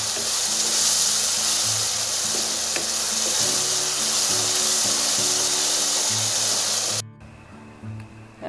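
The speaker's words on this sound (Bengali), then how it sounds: "দিয়ে আমি এখন নামাবো, কষাবো, মশলাটাকে কষিয়ে নেবো পেঁয়াজের সঙ্গে" Ground spices and chilli powder sizzling with onions in a pan, a loud steady hiss with faint background music that cuts out abruptly near the end.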